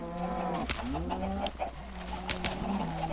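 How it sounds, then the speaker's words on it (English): Many chickens in Minecraft gathered in a pen, clucking and bawking in overlapping bursts at moderate volume, a busy flock chattering throughout with no talk. "we have a lot of chickens"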